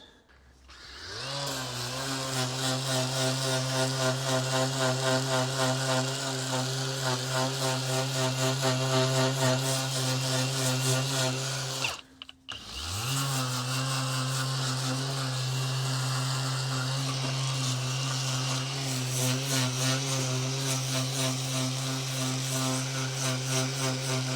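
A power sander working a car body panel on an Escort Cosworth replica, a loud steady high-pitched buzz that stops briefly halfway through and starts up again.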